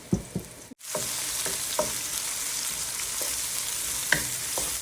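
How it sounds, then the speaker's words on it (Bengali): Gourd fries in oil with a little salt, hissing and sizzling steadily up close while a spoon taps and scrapes the pan several times. "প্রথমে আমি লাউ রান্না করব তো এখানে আমি পরিমাণ মতন তেল দিয়ে দিচ্ছি"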